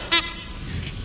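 Short horn-like honk from Bendy: Lone Wolf, a single bright toot near the start, then a low ambient game drone.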